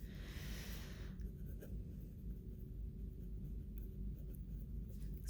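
Pen scratching on paper close by, quiet and continuous, with short strokes and soft breathing in a calm room.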